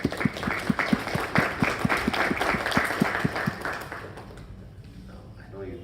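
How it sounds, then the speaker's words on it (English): Lecture audience clapping, brisk and rhythmic, with distinct claps in a quick even beat for a few seconds before it dies away into quiet room sound. "Give a big round of applause."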